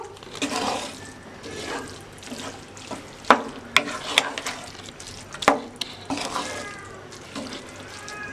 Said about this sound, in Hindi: 1 कप के करीब में पानी ऐड करूँगी इसमें। अच्छे से मिक्स कर लेंगे इसको।